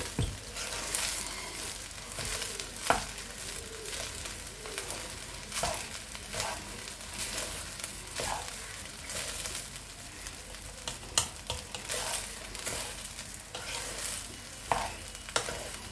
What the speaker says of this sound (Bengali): ভালো করে মিশিয়ে দিচ্ছি ভাতটাকে।